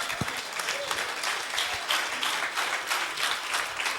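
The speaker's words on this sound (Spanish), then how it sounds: "¿Cuántos aplauden al Señor?" A church congregation applauds the Lord, close, uneven clapping with distinct individual claps that keeps going throughout.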